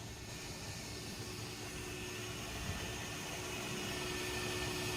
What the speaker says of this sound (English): that vacuum's really loud